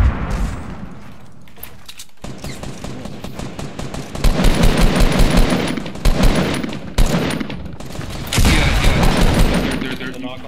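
Rapid bursts of gunfire in a Fortnite Blitz squads battle royale match, loud and continuous with repeated volleys of shots over ten seconds, mixed with players' voices talking over the fighting.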